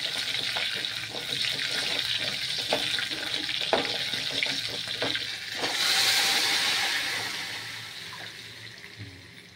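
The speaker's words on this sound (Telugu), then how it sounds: "పప్పు బీరకాయ తాలింపు" A tempering for dal with ridge gourd sizzles in a pan with a soft continuous hiss and a few crackles, swelling briefly louder partway through before easing off.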